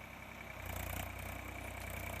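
Tractor engine running while ploughing a field, a steady close-up rumble with a throbbing low drone that swells slightly and holds, with no voices over it.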